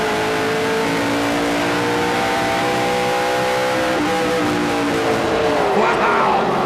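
A race car engine revs hard at high RPM during a 2008 GP3R 100 race, holding steady harmonic tones before the pitch drops as it brakes hard into a corner, loud and continuous against a crowd's roar.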